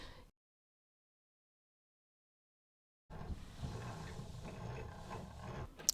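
A hand-cranked yarn winder with a yarn swift winds a yarn cake, giving a close, steady whirring and mechanical clicking that starts after a few seconds of silence.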